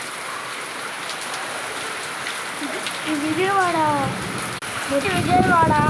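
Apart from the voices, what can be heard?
heavy rain falling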